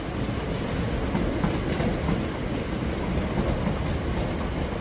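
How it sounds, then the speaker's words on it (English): A train passes near London Bridge station heading out towards Gravesend, giving a loud, steady rumble and rolling clatter of wheels on rails throughout, with no one speaking. "Another train going out towards Gravesend."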